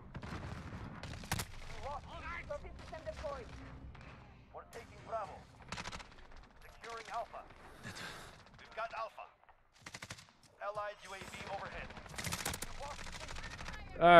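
Submachine gun fire in Call of Duty on PS4, scattered bursts and single sharp shots, mostly moderate with a few loud cracks, mixed with game sounds and someone talking.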